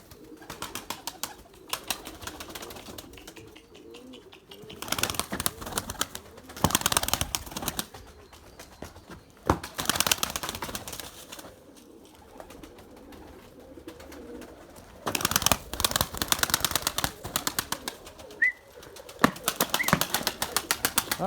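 Purebred Erzurum white breeding pigeons take off and fly, with bursts of loud wing flapping coming in waves between quieter stretches of soft cooing and rustling, close by and with no one speaking.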